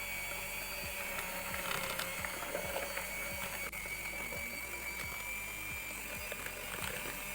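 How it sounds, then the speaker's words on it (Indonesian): An electric mixer whirs steadily through red velvet cake batter, its motor hum close and even with a faint mechanical ticking. Nobody speaks over the run, and the jump in speed is not clearly audible. "kalau menggunakan mixer kita harus berhati-hati ya. Jadi kita speednya satu persatu sampai speed 3."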